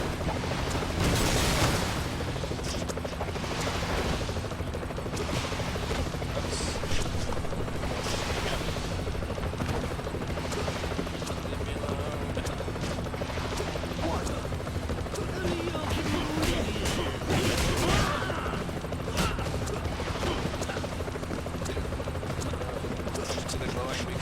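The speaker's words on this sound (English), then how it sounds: "Bring back the helicopter. The Killicopter." Killicopter attack helicopter in the Double Dragon Neon video game, a steady loud rotor drone with bursts of gunfire and explosions over it, with voices talking throughout.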